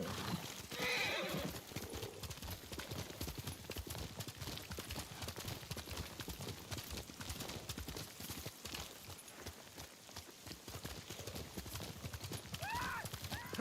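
A horse gallops with fast, steady hoofbeats and neighs early on in the video game Ghost of Tsushima, heard fairly faintly amid game ambience.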